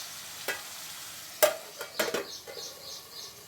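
Moong dal fries in oil in a pan while a spoon scrapes and clinks against the metal in a few sharp strokes, leaving a soft sizzle between the stirs.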